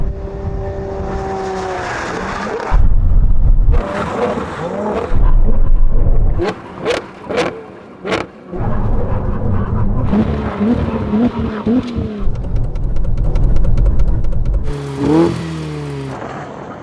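Ferrari cars in a drag race, a Purosangue, 812, SF90 and 296 GTB, roar up to speed and then brake hard to a stop with loud tyre squeals and skids, engines revving between runs.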